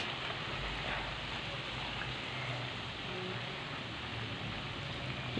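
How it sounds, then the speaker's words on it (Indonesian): Shallots frying in a pan over low heat give a steady, dense sizzle that runs unbroken and fairly quiet from start to end, with no voices over it. "Kalau kita goreng bawang tuh harus sering-sering diaduk."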